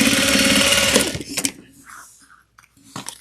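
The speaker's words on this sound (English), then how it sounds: "We're going to sew them out using a 1/4 of an inch seam allowance." Domestic sewing machine running in a steady fast burst as it stitches a quarter-inch seam in a small holiday stocking, then stopping abruptly, followed by faint handling clicks and light rustling.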